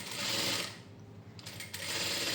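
Sewing machine stitching a shirt-collar kurti, a steady close-up mechanical whir that briefly dips and pauses midway before running again, with no talk.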